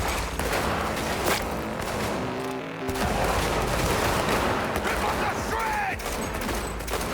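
Sustained gunfire from a firefight in the video game Cyberpunk 2077, loud bursts and rapid volleys running throughout with thuds and footsteps mixed in.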